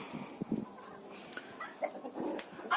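Chickens and roosters on a village farm give scattered, faint clucks and short calls close by, a few separate bursts with quiet between them and no talk.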